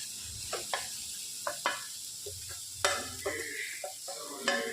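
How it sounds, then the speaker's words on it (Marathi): Onion, tomato and coconut paste fries for misal, with soft sizzling under repeated light stirring and scraping taps, close and fairly quiet. "ह्याला देखील आपण छान फ्राय करणार आहोत."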